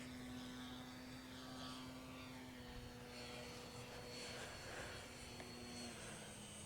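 An RC model Ki-44 warbird fitted with a small electric motor flies overhead, its propeller giving a continuous whining buzz with a steady drone that rises and falls gently as the plane passes, heard alone.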